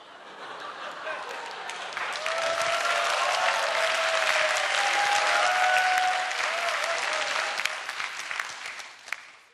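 An audience applauds steadily in a large hall, a dense wash of clapping that swells, holds for several seconds, then thins toward the end with a few louder individual claps.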